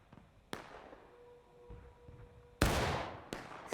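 Musket shots go off in the Civil War battle game War of Rights, with a few sharp single cracks spaced apart, one near and loud with a long echoing tail, and the others more distant.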